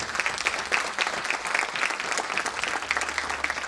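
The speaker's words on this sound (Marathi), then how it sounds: "यासाठी एकदा जोरदार टाळ्या होऊन जाऊ." An audience at a music school programme applauds young singers with sustained, even clapping from many hands, steady in loudness from start to finish.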